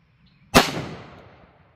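A single pistol shot fired with Underwood 115gr Xtreme Penetrator ammunition: one sharp, loud crack with a short echoing tail fading over about a second, outdoors.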